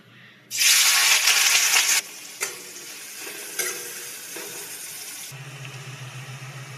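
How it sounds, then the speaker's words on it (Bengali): Onions hit hot mustard oil with a loud burst of sizzling for about a second and a half, then settle into a steadier, softer frying hiss punctuated by a few stirring scrapes, ending with a low hum. "তেল গরম হয়ে গেছে, এখানে 3 চামচ সর্ষের তেল নিয়েছি। এবার দিয়ে দেব পেঁয়াজ"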